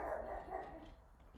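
A dog barks a few times at a fairly quiet level, the barks partly smeared into a muffled indoor background with no other sounds standing out.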